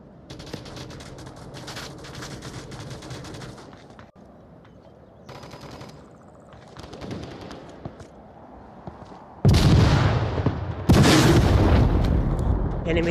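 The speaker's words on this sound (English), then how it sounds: "Where are those shots coming from?" Gunfire in the VR shooter Onward during an assault near a Humvee: bursts of rapid automatic fire and single shots, some distant and others loud and close, with heavy sustained volleys in the final seconds and a player talking between them.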